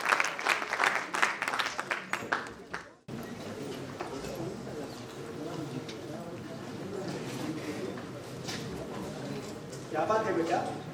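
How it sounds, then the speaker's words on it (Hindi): An audience claps at the opening of a stage play at NCZCC, a dense burst of applause for a few seconds, then a busy hall murmur, with clapping swelling again near the end. "तो जोरदार तालियों के बीच इस नाटक को प्रारंभ करते हैं अनुत्तरित प्रश्न।"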